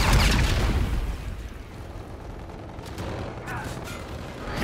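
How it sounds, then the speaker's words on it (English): Rocket strike from the Allied Trinity scorestreak in Infinite Warfare multiplayer hardpoint match: a loud, close boom that opens the clip and decays into a long rumbling roar, with scattered distant crackles and impacts following. "Allied Trinity rocket arriving on site."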